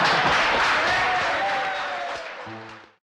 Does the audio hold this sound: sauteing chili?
no